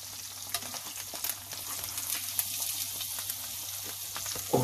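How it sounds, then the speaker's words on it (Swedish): Eggs frying in a pan, seasoned with grill spice, give a steady close sizzle and crackle with scattered sharp pops and a low background hum throughout. "Nu steker jag i alla fall då."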